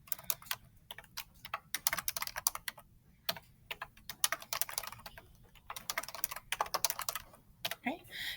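Fingers tap on a computer keyboard in quick irregular bursts of clicks with short pauses, close and fairly quiet.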